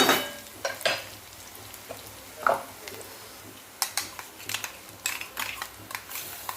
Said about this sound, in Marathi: हिरवी मिरचीचं वाटण तयार केलेलं टाकून घेते इथे मी छान ह्याला पण भाजून घेऊया कांद्यासोबत